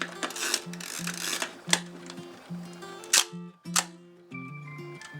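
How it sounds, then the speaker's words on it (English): Several crisp mechanical shutter clicks from a Hasselblad SWC medium format camera, spaced irregularly, each with a brief whirring of gears and springs, close and fairly loud. "So when you press the shutter, you hear a noise like this."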